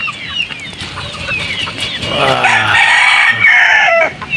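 Young pullet chickens cluck and call close by, several birds overlapping, with a louder burst of clucking and crowing-like calls building from the middle to the end; no one speaks.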